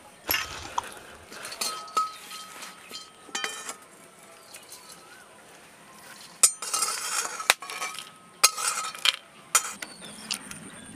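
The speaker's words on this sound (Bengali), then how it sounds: "এবার আমি দারুচিনি এলাচ আর লবঙ্গটাকে আলাদা করে একটু সেঁকে নিচ্ছি" Whole cinnamon, cardamom, cloves and two bay leaves dry-roast in an empty kadai, giving quiet, scattered clinks and scrapes of a spatula against metal, with short bursts of stirring between hushed pauses.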